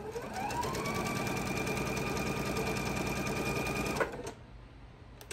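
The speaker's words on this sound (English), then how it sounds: "we're going to sew straight across that" A sewing machine runs steadily for about four seconds, stitching a straight line across fabric about an eighth of an inch from the edge for a thread catcher, with a whining motor tone, then it stops and the room falls quieter.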